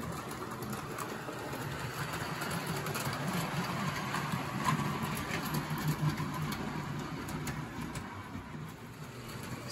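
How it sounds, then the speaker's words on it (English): A homemade G scale model train engine runs on a small loop line at night, giving a faint, steady mechanical whir and hum with light rhythmic ticking that continues throughout without a break. "this engine sure looks beautiful when it's running in the dark"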